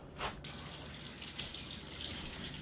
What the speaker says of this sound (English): Now I'm going to put a little bit more water in that